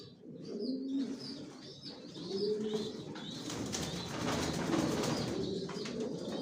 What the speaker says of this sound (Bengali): সব লং এর কবুতর পালি আমার লফটে